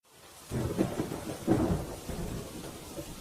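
A low rumble of thunder rolls under steady rain, the storm swelling then fading slightly, with no voices present.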